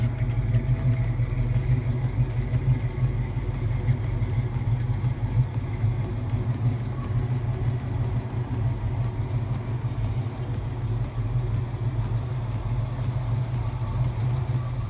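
The V8 of a 1969 Ford Mustang Mach 1 runs in a steady, deep, throaty rumble with a low pulsing idle, held close and loud for the whole stretch with no talk over it.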